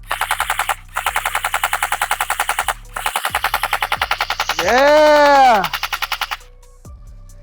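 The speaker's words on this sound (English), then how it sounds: "that was the most fun I've had shooting an Airsoft LMG in quite a long time" Tokyo Marui MK46 Mod.0 airsoft light machine gun with recoil shock firing long full-auto bursts, a rapid mechanical clatter broken by short pauses and a rising-falling motor whine midway, ending with a person's brief shout.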